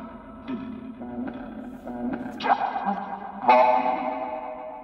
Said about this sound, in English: Put a little phaser on.